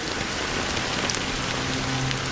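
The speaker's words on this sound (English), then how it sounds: "But it's still raining." Steady rainfall in the video game Honkai Star Rail, a soft continuous patter of drops close by with a faint tonal hum underneath and no speech.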